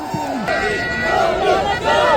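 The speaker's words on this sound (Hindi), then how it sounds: "सोबी के नाम की काफी हूटिंग होती हुई" Crowd at a night cricket tournament final roars, hoots and shouts after a big six, a dense continuous wave of cheering voices close around, swelling toward the end.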